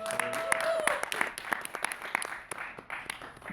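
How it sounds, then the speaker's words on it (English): Scattered audience clapping after a film panel discussion at a forum on indie filmmaking, a moderate room of hands with uneven sharp claps and a brief tonal whine early on. "Let's give our panelists a big round of applause."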